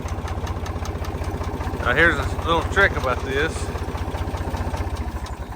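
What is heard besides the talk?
farm tractor engine running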